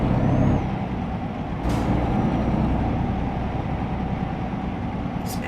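Truck air brakes in the Euro Truck Simulator 2 driving game: two sharp bursts of air hiss over a loud, steady engine rumble, one near the start and one at the end, with no talk.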